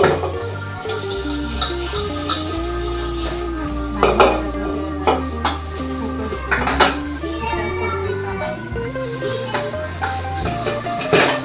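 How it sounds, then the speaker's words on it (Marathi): Dishes, pots and utensils being washed and handled at home while cleaning up for Dussehra, with repeated metallic clanks and clinks of steel vessels knocking together, close and busy, over faint background sound. "भांडी सगळी घासायचे, काढायची चालू झाले."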